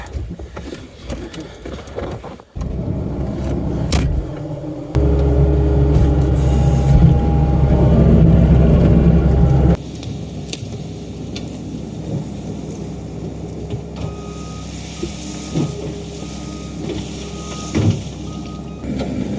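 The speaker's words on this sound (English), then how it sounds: "let's hop in the old skid steer," An old skid steer loader's engine runs steadily with a low, heavy drone while pushing brush piles during land clearing, growing louder and rougher mid-clip as it strains, then settling back to a constant mechanical rumble.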